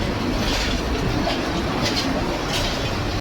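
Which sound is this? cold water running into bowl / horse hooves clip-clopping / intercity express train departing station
intercity express train departing station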